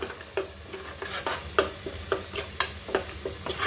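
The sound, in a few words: stirring and frying with turmeric in a pan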